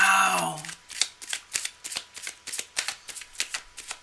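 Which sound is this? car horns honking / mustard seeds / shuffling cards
shuffling cards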